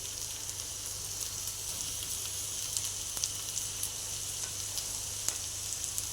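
Ridge gourd peel sautéing in a pan with grated coconut and curry leaves for a village-style chutney, giving a steady, even sizzle with faint crackles throughout, no voices.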